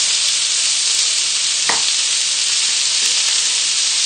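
Lamb pieces fry in a pan with a steady, loud broadband sizzle while being turned for a lamb jalfrezi with ground cumin, one sharp clack of a utensil against the pan cutting through midway, no voices.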